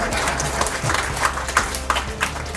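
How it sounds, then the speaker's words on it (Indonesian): An audience at a rupiah currency outreach event in West Papua, Indonesia, claps in a brief burst of scattered, moderately loud hand claps. "Boleh tepuk tangan untuk rupiah."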